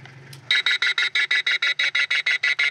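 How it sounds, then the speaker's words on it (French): Bird distress call broadcast through loudspeakers toward an airport runway: a loud, rapid train of harsh repeated shrieks in a steady rhythm, starting abruptly after a faint low hum. "On va plutôt diffuser un cri d'alarme qui va le repousser."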